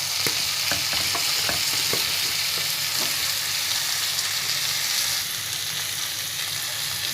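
Chicken frying with cumin and spices in a pan for Indian chicken biryani, a steady dense sizzle with several sharp spatula scrapes and clicks near the start, loud and continuous with no talking.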